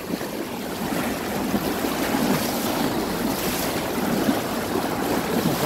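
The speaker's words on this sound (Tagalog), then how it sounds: "Lakas yung agos, Doy." A strong, fast river current rushes in a dense, continuous roar of churning water, loud and close with a slight swell, and no voices.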